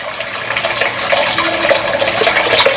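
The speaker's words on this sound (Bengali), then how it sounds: "পরিমাণ মতো জল চলে গেল এখানে।" Water poured into a cooking pan while making a rohu fish head curry, a steady loud splashing gush that runs without a break for a few seconds.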